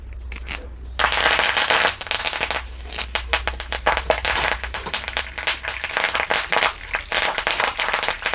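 Washed curry leaves frying in hot oil for chanachur burst into loud, rapid popping and crackling, an irregular spattering that flares up suddenly and keeps going.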